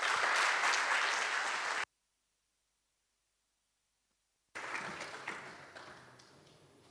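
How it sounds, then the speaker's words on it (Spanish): Loud applause from a crowd at a Bible seminar in Uruguay, cut off abruptly into silence, then resuming and gradually fading out. "Vamos a recibirlo con fuertes aplausos."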